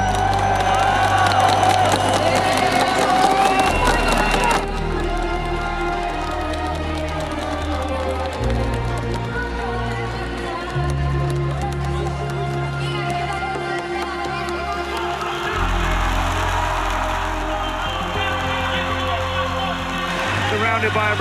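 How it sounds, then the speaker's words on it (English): A large Brazilian crowd at a Rainbow Six Siege esports event roars and cheers steadily throughout, with loud shouting, whoops and chanting filling an arena, over heavy background music with a booming low beat. "Surrounded by a Brazilian crowd who've got one thing on their mind"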